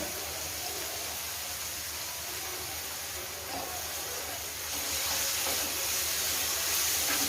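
Onion and ginger garlic paste frying in a pan for a mixed vegetable curry, a steady close sizzling hiss that grows slightly louder toward the end.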